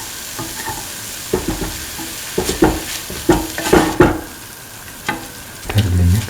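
Egg and cooked vermicelli pasta stirred and sautéed in a pan, with a utensil scraping and tossing in repeated uneven strokes over a steady sizzle, close and fairly loud with no talk.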